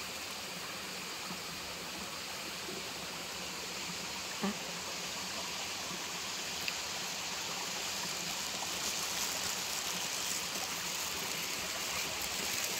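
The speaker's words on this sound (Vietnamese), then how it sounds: "Đây là suối nè." A shallow, clear stream in Taiwan flows in a steady, even wash of trickling water that fills the scene at a constant level, with no voices.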